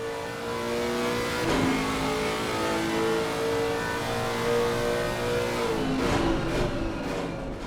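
A 5.4 litre Lexus race car engine roars steadily at Imola, its deep baritone note rising and falling through gear changes during sim racing, loud and continuous without talk.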